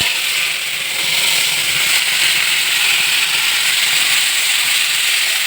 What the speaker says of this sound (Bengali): এবার আমি এখানে কাটা এই সবজিগুলো এবার আমি ঢেলে দেবো।